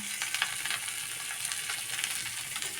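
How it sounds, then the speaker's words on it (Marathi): Chilapi fish pieces frying in hot oil on a tawa, a steady close crackling sizzle with bursts of popping spatter and no voices. "तर आता तेल तापलेलं आहे आणि आता हे पीस आम्ही तव्यावरती ठेवणार आहोत तळायला"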